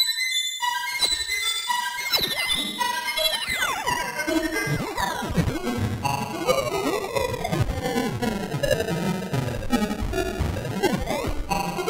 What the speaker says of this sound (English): And then we have a bit crush effect here.